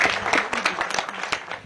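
Audience clapping for students at an event with a Gatundu North MP, a dense burst of applause with sharp overlapping claps, fairly loud and steady throughout.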